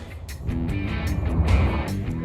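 A racing boat runs across the water at San Angelo, Texas, its engine turning about 8,000 RPM in a loud, rough roar with rushing water and gusty bursts over it.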